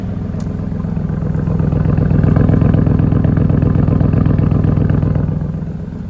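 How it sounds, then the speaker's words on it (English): The 4.0 V8 exhaust of a 2020 Porsche Cayenne Coupe GTS burbles steadily at idle, close and fairly loud, swelling slightly in the middle before easing off. "You can hear there the exhaust is burbling away."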